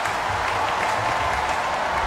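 Stadium crowd at the 2011 World Athletics Championships in Daegu, South Korea, applauds a decathlete: dense, steady clapping and cheering from a large audience, loud and unbroken throughout.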